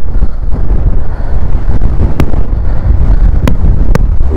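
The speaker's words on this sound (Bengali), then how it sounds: "হাওয়া তো ওটা থাকবে, কিছু করার নেই" Strong wind buffets the microphone on a rough mountain road between Jomsom and Muktinath in Mustang, Nepal, a loud continuous low roar with gusting swells and a few sharp clicks.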